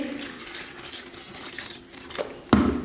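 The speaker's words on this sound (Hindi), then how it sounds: "और ये अब हम करेंगे जी इनको पानी में डिप थोड़ी देर के लिए" Fried dahi vada lentil dumplings are dipped into water in a kitchen, giving soft sloshing and trickling splashes, ending in a sharper close splash.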